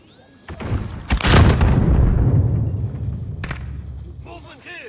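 A grenade blast in Call of Duty: Modern Warfare (2019), a sharp loud boom that rolls into a long rumbling decay, with a later crack and clattering game effects near the end.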